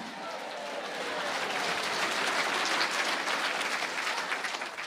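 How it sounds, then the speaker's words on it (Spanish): A church congregation breaks into loud applause at a worship service, a dense wash of clapping that swells and holds steady for several seconds. "Fuerte aplauso"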